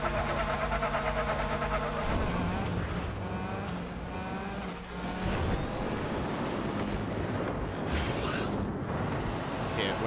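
A car engine idling in Hot Wheels Unleashed 2: Turbocharged, a steady low rumble with a faint mechanical whine, holding at an even level under game music throughout.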